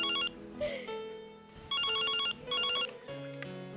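A bright electronic phone ringtone plays in repeated bursts, with a melodic pattern over faint background sounds.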